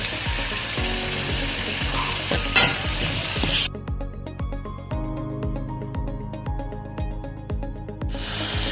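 A fried ginger, garlic and onion masala for a stuffed baingan dish sizzles as tomatoes and green chillies go in. A loud hissing burst cuts off, a quieter crackle continues with stirring clicks over music, then the loud hiss returns.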